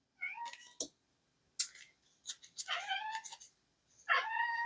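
A cat chirps and meows at a window in a string of short, bright calls with gaps between them. The calls are close and fairly soft, with no speech.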